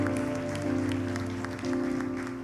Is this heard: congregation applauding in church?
yes